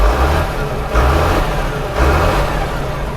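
An old Massey Ferguson tractor's mid-sized engine starts and runs loud and rough, surging twice in rhythmic revs over a steady low rumble, with no voices.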